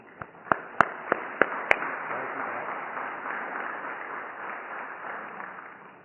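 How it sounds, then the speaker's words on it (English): Audience applause at a Rotary Club of Braintree centennial celebration for Sean McClory: a few sharp individual claps open, then a dense, even wash of clapping from a crowd that carries on steadily at moderate volume. "An applause for Sean McClory, please."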